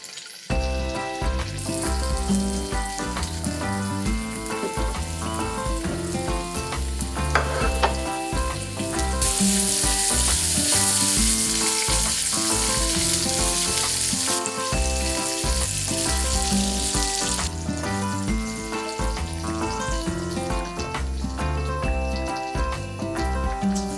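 Rigatoni cooks in a pan with crisping pancetta, giving a steady, constant sizzle and bubbling that runs unbroken under prominent background music.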